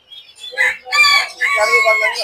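Kadaknath rooster, an all-black chicken breed, crowing loudly and close by at a livestock market during a temple chariot festival, with a short call followed by two longer drawn-out crows.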